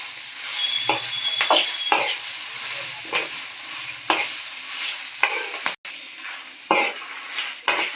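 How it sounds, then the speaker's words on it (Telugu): Curry leaves and dried red chillies frying in a pan for a spicy Telugu chilli powder, with steady sizzle and repeated scraping stirs; a brief cut of silence interrupts near the end, and no one speaks. "ఈ విధంగా కలుపుతూ వేయించుకోవాలి కరివేపాకు కూడా."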